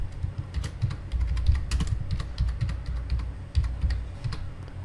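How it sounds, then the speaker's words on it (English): Typing on a computer keyboard, with rapid, irregular key clicks close by that run continuously and stand alone with no speech. "So let me type some words."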